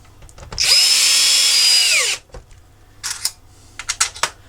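Power drill driving screws into the plastic casing of an Xbox 360 during a console rebuild: one loud, close, sustained whine of about a second and a half that sags in pitch as it stops, then scattered clicks and handling knocks.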